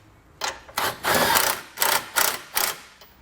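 A power tool drives bolts up on a vehicle base plate during a Roadmaster Direct-Connect kit install on a 2020 Jeep, sounding as about five short, loud whirring bursts separated by brief pauses.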